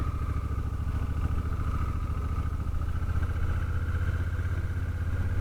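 A 2017 Honda Africa Twin DCT motorcycle is being ridden, its engine giving a steady, continuous drone with a low rumble and mid-range hum, fairly close and unbroken, with no talk.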